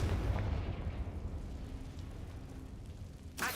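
A Confringo fire spell blasts in a Harry Potter video game: a deep, rumbling explosion that starts loud and slowly fades over a few seconds, then a sharp burst cuts in at the end.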